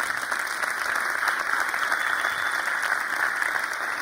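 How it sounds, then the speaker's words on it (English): Sustained audience applause at a Berlin iBRIDGES event, a dense, steady clatter of many hands clapping at even loudness throughout, with no talking over it. "Give them another round of applause"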